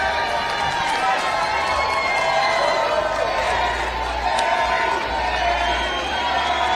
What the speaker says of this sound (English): the crowd starts chanting, "Kari won."